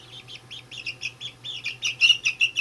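Young chicks peep continuously under a grow light in high, repeated chirps, growing louder toward the end, with a steady low hum underneath.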